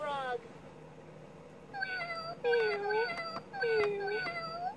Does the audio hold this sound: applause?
no